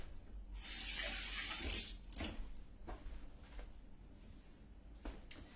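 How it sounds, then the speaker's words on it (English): Hands washed under a running kitchen tap while preparing a Mediterranean lentil salad: a loud steady gush of water for about a second and a half, then quieter splashing and drips, with no talking. "Wash hands."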